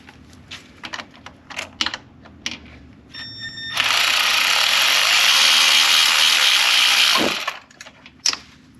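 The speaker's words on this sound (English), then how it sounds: "remove that bolt. Just use an extended socket," Ratchet on an extended socket loosening a 7mm bolt on a Mercedes transmission during conductor plate repair, a few soft clicks and then a sustained rapid ratcheting buzz for about three seconds, close by.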